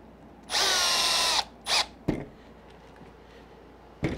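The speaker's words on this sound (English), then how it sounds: "Normally I don't use the drill to do this for the back ones, but I'll go a little bit faster" A power drill drives bolts on an ARRMA Kraton V3 RC car in loud, close bursts: one long whirring run, a shorter second burst, then sharp clicks and a brief final spin with quiet gaps between.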